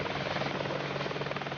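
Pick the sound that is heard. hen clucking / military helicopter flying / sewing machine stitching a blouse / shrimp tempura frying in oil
military helicopter flying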